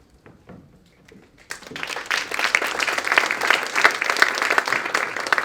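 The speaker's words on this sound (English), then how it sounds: "she really does deserve that round of applause" Quiet murmuring gives way to a sudden swell of applause from a press conference audience, and the clapping stays full and sustained until the end.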